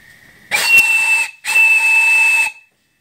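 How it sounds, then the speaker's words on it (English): A live steam boiler's brass whistle blows in two loud, sustained shrill blasts of about a second each, separated by a brief gap, with breathy steam hiss under the tone and a faint whistle at the start. "There's a really nice whistle on it. Turn down your volume and I'll blow it here."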